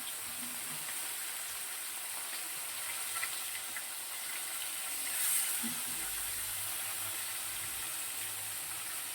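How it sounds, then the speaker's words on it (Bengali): Bhola fish fries in a pan, a soft, even hiss of sizzling oil that holds steady and fairly quiet throughout, with no talking. "দেখো ভোলা মাছ রান্না হচ্ছে। আগে ভালো করে একটু ভেজে নেওয়া হবে।"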